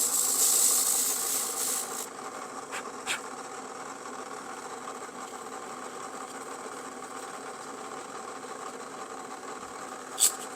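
Foam plugs being rounded over at their ends during foam sculpting, giving a steady mechanical whirring and grinding hum with a few brief scraping clicks, close and moderately loud, no talking.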